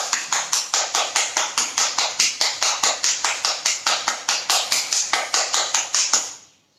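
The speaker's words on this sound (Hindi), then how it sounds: "अभी जोर से खुश होके अपने लिए ताली बजाएं।" A group claps hands together in a steady rhythmic burst of about two dozen even claps at the close of a yoga session, loud and near, then fading to silence.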